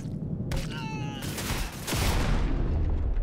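An explosion in Cyberpunk 2077, a burst of crackling blasts followed by a sustained rumbling roar that swells louder toward the end.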